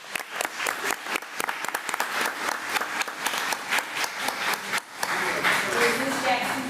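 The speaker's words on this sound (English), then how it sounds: "let's give Jackson a round of applause as he comes forward" A room full of people at a school board meeting claps for a kindergarten student walking forward, dense sustained applause filling the space, with a voice speaking briefly near the end.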